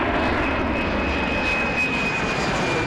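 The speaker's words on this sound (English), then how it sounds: "Planes from all over the world fly here every day." Airplanes flying at McCarran airport, one of the busiest airports in the country, make a steady, loud broadband engine roar with a faint high whine, continuous for the whole stretch with no talk.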